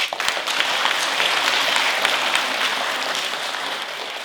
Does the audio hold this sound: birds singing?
no